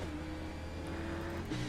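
A NASCAR Xfinity Series race car engine at the Brickyard idles and drones steadily, close and fairly loud, with a slight shift in pitch near the end as the car rolls toward the green flag.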